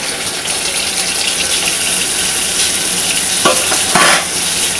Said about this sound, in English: you're just going to run cold water on top of it